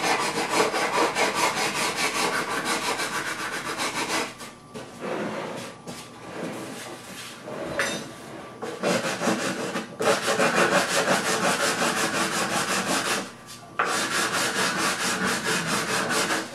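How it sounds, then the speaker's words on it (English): Sanding block rubbed back and forth over the binding area of a wooden guitar body, a steady loud abrasive scraping in long strokes with a few brief pauses, no talking. "Never, ever sand without a block."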